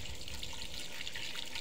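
Water pours steadily into a pot of khichuri being cooked, a continuous close splashing trickle with no talk over it.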